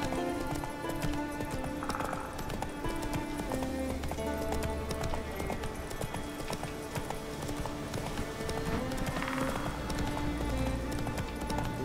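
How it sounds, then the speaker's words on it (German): Horse hooves clip-clopping at a steady run in The Witcher 3, with an occasional whinny, continuous and fairly loud against game music and ambience. "Da komme ich nicht mit dem Pferd durch."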